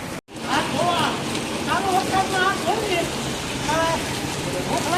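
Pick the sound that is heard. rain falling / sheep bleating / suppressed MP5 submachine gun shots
rain falling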